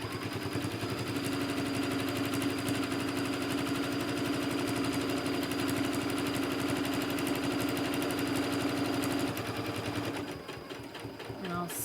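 Domestic sewing machine stitching straight quilting lines, a loud close rapid mechanical whir running steadily for about ten seconds before slowing and stopping.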